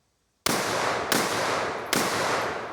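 Three loud, sharp gunshots from a Liberty Hammer .50 Beowulf fired at bags of ice, evenly spaced about three-quarters of a second apart, each with a long ringing outdoor tail and no talking.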